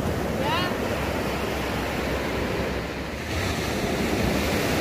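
Surf at Tunggul Buto beach, a steady loud wash of waves with wind buffeting the microphone.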